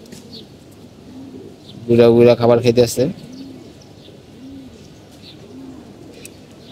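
Pigeons on a rooftop coo in soft, repeated low phrases close by while someone speaks over them briefly.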